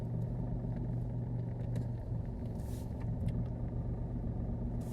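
A car idles and creeps at low speed while reverse parking alongside a curb behind a parked Mini, a steady low engine rumble running throughout without speech.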